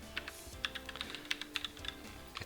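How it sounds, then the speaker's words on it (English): Steady clicking of keys on a computer keyboard during an office data-entry exercise, an irregular run of light taps at close range with no voices. "Okay, let's start typing."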